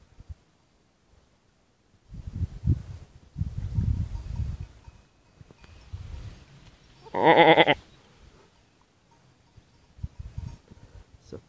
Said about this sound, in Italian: Sono caprette queste.